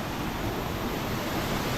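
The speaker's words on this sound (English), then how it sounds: "the water's just torrentially coming through here" Rain-swollen river water rushes torrentially through a channel and past a small bridge clogged with washed-up debris, a steady, loud, broadband roar with no pauses, close by.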